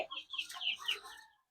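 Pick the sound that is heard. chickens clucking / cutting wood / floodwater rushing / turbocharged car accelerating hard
chickens clucking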